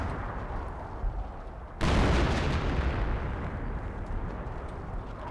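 A tank's main gun fires in the Company of Heroes strategy game, one sudden loud blast that rolls into a long booming rumble over a steady battle background.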